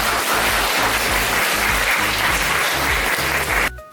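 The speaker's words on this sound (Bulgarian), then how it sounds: "Вашите аплодисменти за Георги Костадинов, Ели Лозанова и Цветелина Достола" An audience at a humor and satire festival in Lom claps for comedians, dense sustained applause that fills the room loudly before cutting off abruptly.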